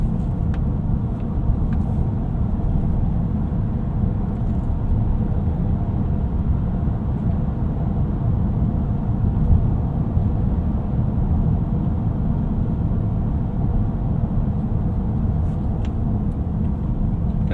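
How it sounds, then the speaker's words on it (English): Steady low road rumble inside a 2021 Cadillac CT5 Luxury while driving on an oil-and-chip road surface, a constant dense drone with tire roar that holds unchanged throughout, heard from the cabin. "It doesn't get rid of road noise completely."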